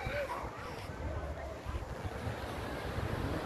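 Wind rushes steadily along the Puerto Vallarta boardwalk while sea waves wash in continuously, making a broad roaring noise close to the microphone with no clear pauses.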